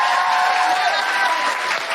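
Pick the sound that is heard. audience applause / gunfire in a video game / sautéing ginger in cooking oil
audience applause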